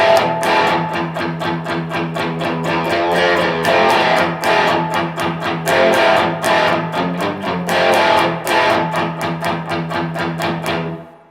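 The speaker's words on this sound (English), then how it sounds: "I'll roll it back to the bridge pickup. I'll turn up my volume all the way." Electric guitar played through the bridge pickup with the volume fully up, a driven, slightly distorted tone of steady strummed chords and picked notes, loud and alone with no talking.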